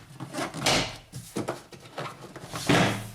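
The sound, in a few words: door panel popped loose on 2000 Honda Civic door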